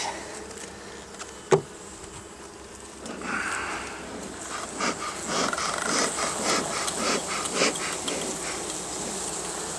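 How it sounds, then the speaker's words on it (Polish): Honeybees hum and buzz in the honey super of an opened hive, a close, swelling drone that grows louder after a few seconds, with a sharp knock early on and small wooden scrapes. "Pszczoły pracują, składają miodek."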